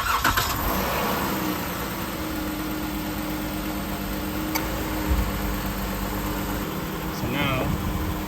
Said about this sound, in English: now I'm gonna turn the car on and get it going.